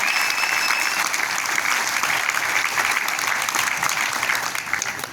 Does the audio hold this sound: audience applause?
yes